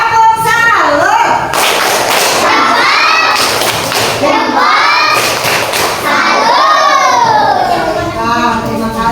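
A classroom of children chant the "tepuk salut" routine in loud sing-song voices, punctuated by rhythmic clapping and thumps, close and lively throughout.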